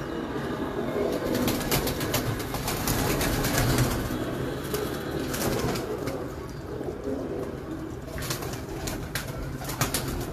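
Sialkoti pigeons cooing and fluttering close by amid a dense, steady flock murmur, with occasional wing flaps and rustling throughout.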